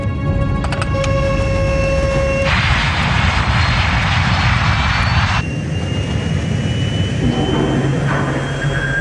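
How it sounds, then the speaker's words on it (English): Airliner jet engines roar at full throttle, a loud sustained broadband rush with tonal whine, surging in a dense burst midway then settling to a steady drone, with no clear speech. "To save the plane, Captain Caviades applies full throttle, burning up more of the plane's precious fuel"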